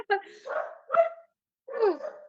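A dog barks three times in quick succession, close and fairly loud, with short pauses between the yips and no talking over them.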